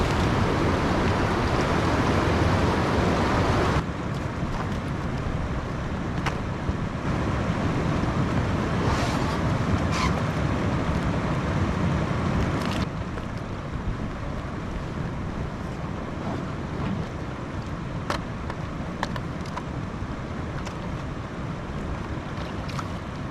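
A packed kayak sets out on Highland water, with broadband wind and water wash throughout, louder for the first few seconds and then steady lapping and splashing with a few faint knocks, no talking.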